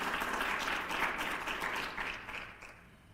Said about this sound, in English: would you give him, he and his team, another round of applause for the work that they're doing?